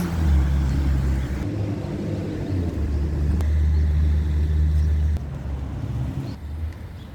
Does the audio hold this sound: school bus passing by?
yes